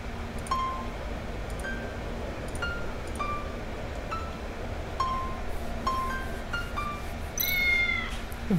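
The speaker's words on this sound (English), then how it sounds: "Meow." A cat in the video game Tales of the Neon Sea meows repeatedly in short, clear calls over a quiet steady hum, with a louder drawn-out meow near the end.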